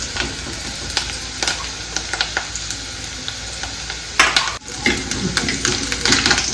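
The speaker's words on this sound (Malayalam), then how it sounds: "മൺചട്ടിയിലാണ് വെക്കുന്നത്. കറിവേപ്പില ഇട്ട് കൊടുത്ത് ഉള്ളി ഇട്ട് കൊടുത്ത്" Curry leaves and onion frying in oil in a clay pot crackle and sizzle loudly, with irregular pops and stirring scrapes and a sharp burst as more goes in, no voices.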